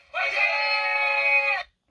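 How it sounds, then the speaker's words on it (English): A Korean-learning talking pen suddenly lets out a steady electronic scream that runs about one and a half seconds and then cuts off abruptly into silence. "Because you randomly hear screaming."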